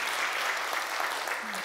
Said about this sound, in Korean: 이렇게 박수 한번 올려드립시다.